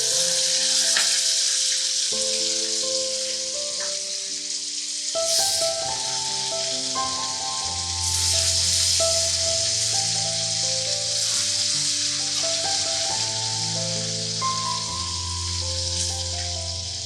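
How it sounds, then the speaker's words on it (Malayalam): Chicken shallow-frying in coconut oil for Kerala fried chicken gives a steady, bright sizzle and crackle throughout, with melodic background music playing over it. "നമുക്കൊന്ന് ഷാലോ ഫ്രൈ ചെയ്തെടുക്കാം"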